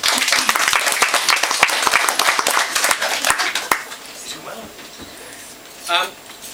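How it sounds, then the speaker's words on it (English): Wedding guests clap in a lively burst of applause at a reception speech, dense at first, then thinning out and stopping after a few seconds; a few scattered sounds and a soft voice follow in a quieter room. "So, round of applause for Sue."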